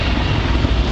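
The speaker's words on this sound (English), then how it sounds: "chainsaw engine." A bicycle powered by a chainsaw engine roars nearby at a steady high-revving buzz, loud and unbroken for the whole second, with no talk.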